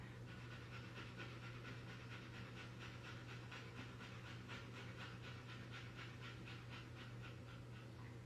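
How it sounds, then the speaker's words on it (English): Rapid, rhythmic sniffing breaths through the nose during a yoga exercise, a fast steady panting pulse repeating for several seconds over a low hum. "breathe very fast in the nose like a sniffing dog"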